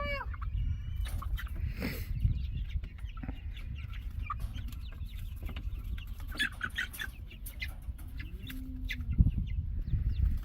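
Baby silkie chicks outside for the first time, with scattered high peeping and soft chirps over a low rumbling background of wind and handling noise, fairly faint and irregular.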